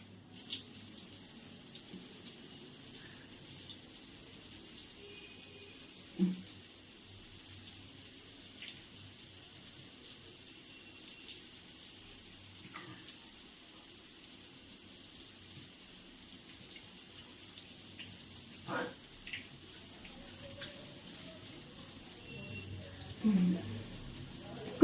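Cold water runs steadily from a tap pipe in a home washing area, a soft continuous flow with a few brief louder splashes and knocks.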